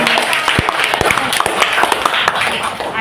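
A group at a teachers' workshop claps, brief scattered hand claps in loose rhythm over a noisy room, with voices murmuring underneath.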